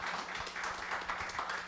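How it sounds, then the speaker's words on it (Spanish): Church congregation applauding the Lord, a dense, steady wash of many hands clapping at moderate loudness that fills the whole moment without pause. "Le damos un fuerte aplauso al Señor."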